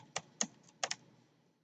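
A few close key presses on a computer keyboard while typing Python code, four or five quick clicks, two of them paired, in a short quiet burst.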